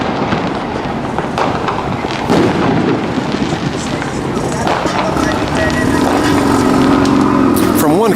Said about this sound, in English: From one corner of this town to the next, it's fireworks.